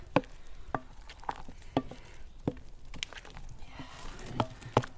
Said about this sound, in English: Mix that all in together